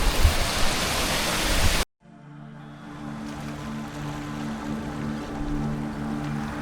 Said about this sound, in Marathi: केव्जच्या बाजूलाच एक छोटासा वॉटरफॉल आहे